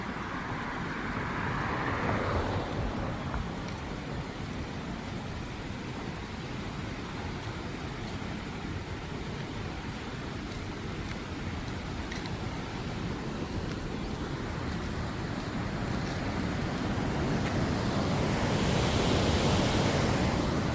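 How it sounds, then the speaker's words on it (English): Steady broadband rush of flowing water in a scenic provincial park, continuous and fairly loud for the whole stretch, swelling slightly near the start and end, with no voices. "Sounds of rushing water."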